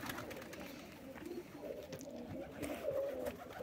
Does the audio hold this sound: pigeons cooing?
yes